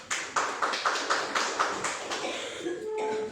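A small audience at a seminar clapping in a steady rhythmic pattern, about eight evenly spaced claps that fade out near the end, fairly close, with some talking.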